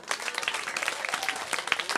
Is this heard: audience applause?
yes